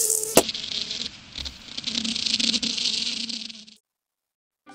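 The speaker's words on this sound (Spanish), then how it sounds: "No me molestes, mosquito." A mosquito buzzes loudly and close by, a thin whining drone that wavers for several seconds, then cuts off abruptly into silence.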